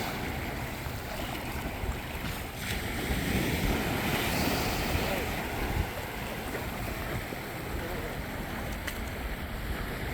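Sea waves washing in at a Grand Turk beach, a steady broadband surf wash with wind buffeting the microphone, swelling slightly mid-way and continuing evenly throughout.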